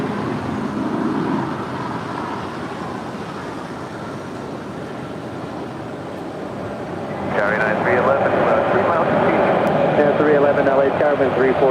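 A jet airliner rolls for takeoff on runway 25 right at LAX, a steady broad roar that swells louder partway through, with radio voices talking over it.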